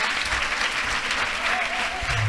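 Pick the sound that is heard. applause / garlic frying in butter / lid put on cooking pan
applause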